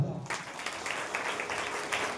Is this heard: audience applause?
yes